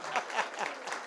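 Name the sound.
audience clapping at kirtan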